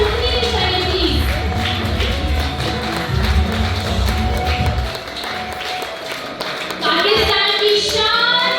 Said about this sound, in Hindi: तालियां बरसी रहनी चाहिए please for superstar Faisal Qureshi